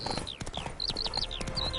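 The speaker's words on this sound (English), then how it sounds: "Spooking my horse." Horse hooves in The Witcher video game clip-clop in a quick, steady rhythm while high whistling chirps sound over them, with no talking.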